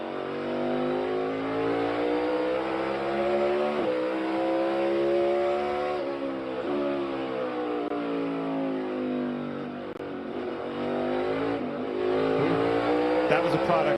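A NASCAR Cup Series race car at Martinsville, heard onboard, holds a loud, steady engine drone that rises and falls with gear changes and corners for the whole stretch, with commentary voices over it.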